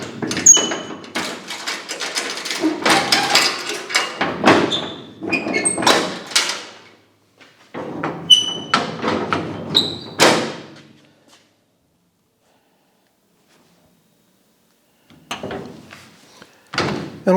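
Latches clack shut on a Cushman Truckster utility vehicle in a series of sharp metallic thuds and knocks, close and loud, separated by pauses, then a quiet stretch before a few more light clatters.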